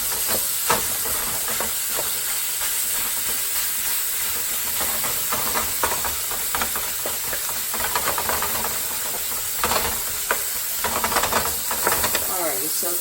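A pound of ground beef sizzling as it browns in a pan, a steady loud hiss and crackle with occasional scraping and tapping as the meat is broken up.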